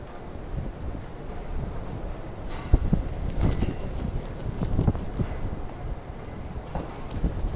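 Typhoon Hato's gusting wind roars and buffets the microphone in Hong Kong, a rough steady rush with scattered thumps and rattles and no speech.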